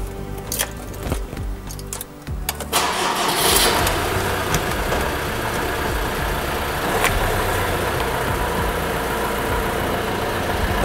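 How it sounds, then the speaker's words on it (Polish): A car engine cranks and fires after a couple of seconds of quieter handling noises, then settles into a steady, even idle that continues to the end. "Teraz sobie uruchomimy może auto"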